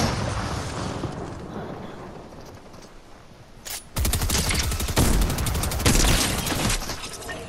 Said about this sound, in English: Yeah, he's shooting a sniper.